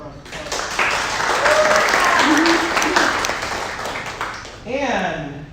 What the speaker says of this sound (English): Let's give her a round of